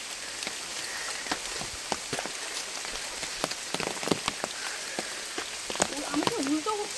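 Rain falls during a monsoon bike tour in the hills of Belpahari, Jhargram, pattering steadily with scattered sharp drips striking nearby surfaces, close and fairly loud throughout, with a faint voice near the end.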